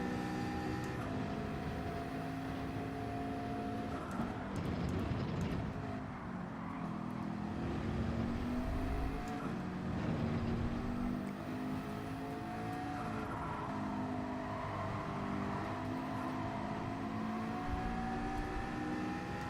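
A big pack of race cars roars together in Gran Turismo 7, with engines droning and whining steadily and pitch sweeps rising as they accelerate through the field.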